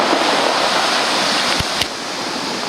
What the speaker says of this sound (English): Well, the waves are pretty rough.